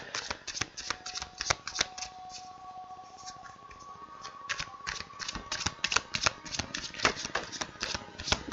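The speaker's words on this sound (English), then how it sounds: "hope the shuffling is not too loud." Playing cards being shuffled close to a microphone, a rapid run of crisp riffling snaps and flutters that pause briefly and then resume in repeated bursts.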